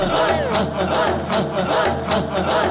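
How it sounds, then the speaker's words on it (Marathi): Audience at a dhol-tasha team competition cheering and applauding to welcome the Somsai Bhairavnath team: a loud, dense crowd roar with shouting, continuous throughout. "जोरदार टाळ्या होऊन जाऊ द्या"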